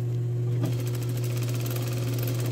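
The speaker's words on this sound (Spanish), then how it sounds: "De esta forma termino entonces de coser el delantero con la espalda usando costura francesa" A sewing machine runs steadily, stitching the front and back of a women's blouse together with a French seam, a constant close mechanical hum with fast rhythmic needle clatter and no talking.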